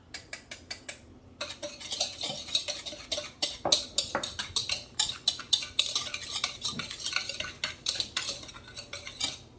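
A utensil stirs sugar and cornstarch together in a bowl for an apple pie filling. It sounds as a steady, rhythmic scraping and clinking close up, repeating quickly and continuing without any talk.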